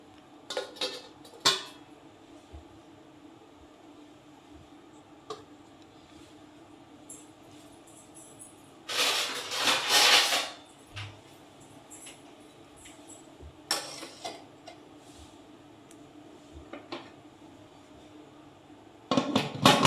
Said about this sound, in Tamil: இதோ இப்போ குக்கர் வைக்கிறேன் பாருங்க